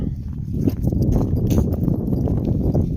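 Horse hooves clip-clop on a road in rural farmland countryside, a steady close walking rhythm that runs throughout at moderate level.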